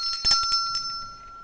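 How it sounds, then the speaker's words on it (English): Steel tap bell rung indoors, a few quick bright dings in a fast cluster followed by one more strike, loud and close, the clear metallic tone ringing on and fading after the last hit, no talking. "I wanted to ring a bell, so I got this."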